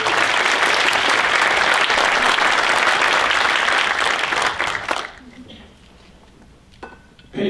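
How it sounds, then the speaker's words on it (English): A conference audience breaks into dense, sustained applause that fills the room for about five seconds, then stops abruptly into near quiet. "Can we also give a round of applause for all the folks who helped organize this conference"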